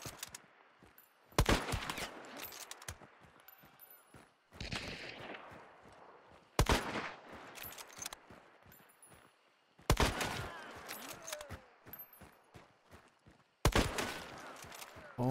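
In Hunt: Showdown, several sharp, loud gunshots ring out with long echoing decays and quieter stretches in between, spaced a few seconds apart.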